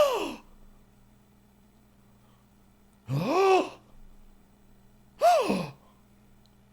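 A person imitates a gasp with their voice, making three sharp, breathy gasping sounds spaced a couple of seconds apart over a low steady hum.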